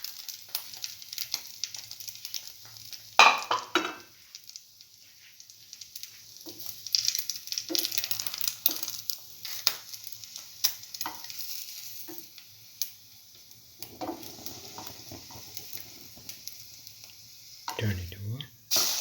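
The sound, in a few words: bread dipped in chili ginger garlic mixture frying in pan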